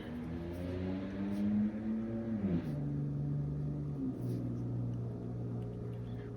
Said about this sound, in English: I'm sorry if you can hear the cars driving by or motorcycles.